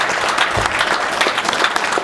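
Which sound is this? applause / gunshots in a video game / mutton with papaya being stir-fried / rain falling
applause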